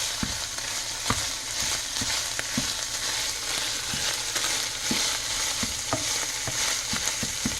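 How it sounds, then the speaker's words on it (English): Beef sizzles steadily in a hot pan as bulgogi sauce is stirred in, with repeated scraping and clacking strokes from a utensil cutting through the continuous frying hiss, close and fairly loud. "then we're going to stir in the bulgogi sauce"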